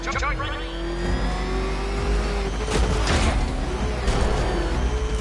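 Batmobile from the video game Batman: Arkham Knight driving hard, a loud continuous engine roar with rising revs and mechanical clatter, while a voice talks over it throughout.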